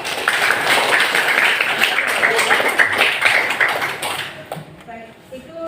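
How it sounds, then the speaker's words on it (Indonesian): Students in a classroom applaud a classmate, with brisk, fairly loud clapping from a group that fades out toward the end as a voice begins talking. "Kita berikan tepuk tangan untuk"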